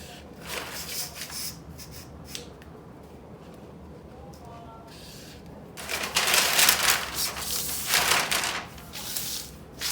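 A pen or marker scratches along paper while drafting a straight line on a bustier sewing pattern, with steady close rubbing strokes that grow louder and busier in the second half.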